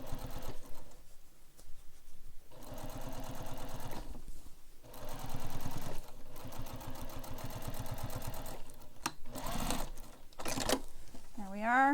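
Sewing machine stitching a backpack seam in short bursts of rapid, close mechanical clatter separated by brief pauses, with a person talking between and over the runs.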